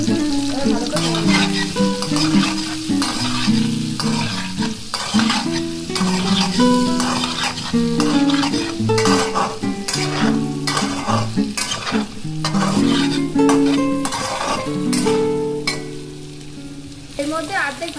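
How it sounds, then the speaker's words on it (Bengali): Potatoes with fried ground spices, salt, Kashmiri chilli and tomatoes are stirred in a frying pan for aloo dum, with repeated scraping and clinking strokes of the spoon over a steady close sizzle. "এবার ভালো করে নেড়ে নেব।"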